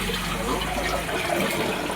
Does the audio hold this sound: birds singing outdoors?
no